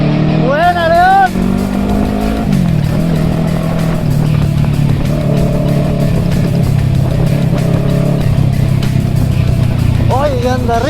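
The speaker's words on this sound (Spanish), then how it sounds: "¡Oye, que anda rico la moto!" A Kawasaki Eliminator motorcycle engine runs steadily and loud throughout, with brief whoops and voices cheering over it near the start and end.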